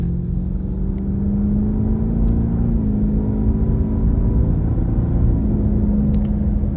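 A Ford F-150 Raptor R pickup drives and accelerates with a steady, smooth engine rumble and low whir throughout, the pitch rising gradually as it pulls ahead, heard from inside the cab.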